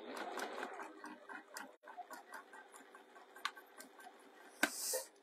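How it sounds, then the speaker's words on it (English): A domestic sewing machine backstitches a row on a fabric bag, rapid rhythmic clattering stitches in short runs with pauses and a couple of sharp clicks, close and fairly quiet, no talking. "Backstitch both sides of that row of stitching because that'll keep it nice and strong."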